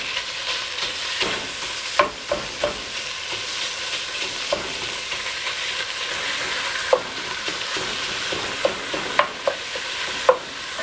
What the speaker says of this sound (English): now I'm gonna drop my chorizo down in there. Bring it around here. Get it busted up.